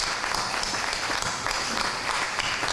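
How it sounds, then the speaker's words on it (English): Dense, steady audience applause fills a town hall meeting, loud and close, with many hands clapping continuously and no talk over it. "give him a big round of applause"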